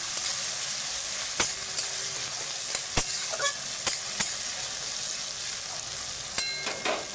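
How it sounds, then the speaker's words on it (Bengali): Tomato frying with onion in a pan for a pumpkin curry, giving a steady broadband sizzle with a few sharp clicks and taps of a utensil against the pan scattered throughout. "টমেটোটাকে পেঁয়াজের সঙ্গে ভেজে নেব"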